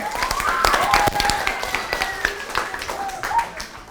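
Scattered clapping from a small group, a few seconds of uneven hand claps with some faint background chatter.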